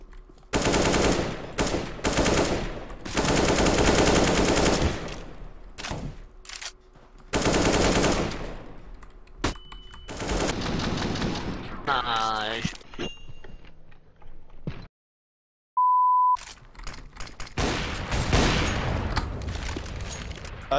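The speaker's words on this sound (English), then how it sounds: "I'm shooting at his head and I hit him for two" Video game gunfire with long rapid automatic bursts and scattered single shots, broken by short pauses and mechanical clicks, with a player talking between and over the shooting.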